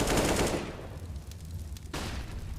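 AK rifle fire in a competitive Counter-Strike match on Inferno: a sharp burst of shots up front, a quieter stretch of game ambience, then another crack near the end.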